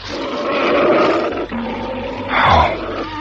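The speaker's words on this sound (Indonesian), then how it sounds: "Mulutnya menggeram-geram mengeluarkan suara harimau" A tiger's growling roar used as a sound effect in an Indonesian radio drama: a loud, sustained rumbling growl that dips briefly, then swells into a harsher roar near the end, with no voices.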